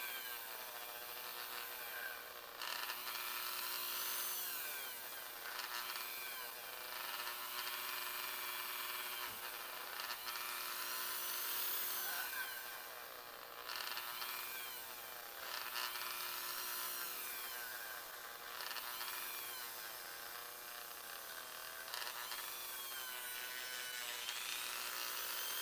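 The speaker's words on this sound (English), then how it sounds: "So you can kind of see how I'm sanding that down, making it so it'll work" A high-pitched power tool whirs continuously at close range, its tone wavering as it sands down plastic on an action figure, with no talking.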